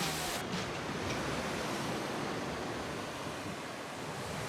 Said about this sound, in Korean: 화산섬 타베우니에는 바위에 난 용암구멍 사이로 파도가 강하게 솟구치는 블로홀이 장관이다.